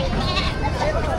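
A goat bleats up close at a livestock market selling cattle, goats and carabao in Padre Garcia, Batangas, a loud wavering cry lasting about a second amid busy crowd chatter.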